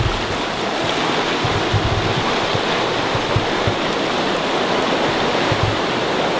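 Cold, clear creek water at Arroyo Gabú in Santa Elena runs over a sandy bed, a steady, full rushing wash close by that holds constant throughout with no voices.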